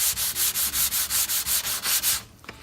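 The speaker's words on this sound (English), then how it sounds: "You want to sand a flat edge." Hand sanding along a flat wood veneer edge: about eleven steady, evenly spaced rasping strokes, close and loud, then a quiet pause with a faint knock.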